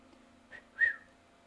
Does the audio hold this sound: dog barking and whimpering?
no